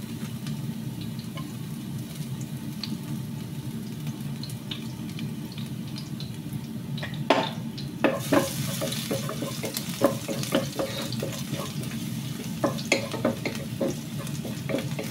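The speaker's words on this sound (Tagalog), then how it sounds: "mainit na ang ating oil. Lalagay ko ng garlic" Garlic fries in hot oil for sweet and sour tilapia, a steady hiss that grows more crackly partway through, with frequent popping ticks.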